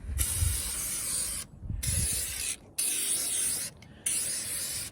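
Fluid Film rust protection sprayed onto a Bushwacker teardrop camper, heard as four loud, close bursts of aerosol hiss separated by short pauses.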